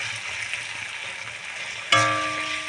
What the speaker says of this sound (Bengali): মটরশুঁটিগুলো দিয়ে আমি ভেজে নেবো একটু